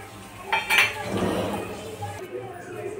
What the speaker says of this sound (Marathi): मनुके पण तोडून घेऊ.